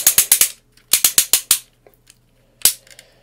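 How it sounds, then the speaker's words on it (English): Sharp, loud plastic ratchet clicks from a Metal Cardbot Mega Trucker transforming toy's shoulder joint come in quick bursts of four or five, a pause, then one last click, close up and crisp. "Go all the way around on a loud ratchet."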